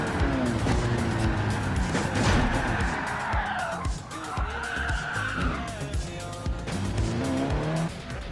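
Race car in Gran Turismo 7 skidding with squealing tires and engine roar, scraping along as it strikes the wall, loud and sustained under continuous racing noise.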